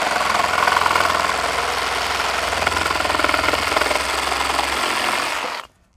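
A cheap, lightweight Mertek cordless reciprocating saw cuts steadily with a dense, buzzing rattle, held at an even pace for about five seconds and then cutting out abruptly into silence.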